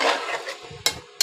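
Chicken pulao with warm water added is stirred in a pot, giving a short burst of wet scraping and bubbling followed by two sharp clinks of the spoon against the metal, close and brief with no voices.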